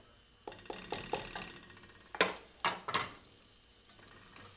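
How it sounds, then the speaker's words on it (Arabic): White flour toasts in a pan with butter and oil, heard as a low sizzle broken by several distinct stirring scrapes and taps of the utensil against the pan. "حمصت دقيق مع الزبدة والزيت."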